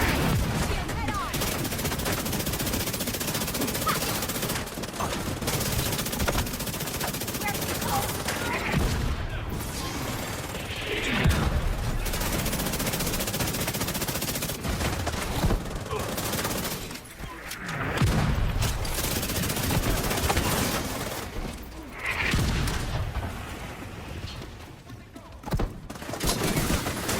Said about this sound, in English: Now fire everything we got and give them heck.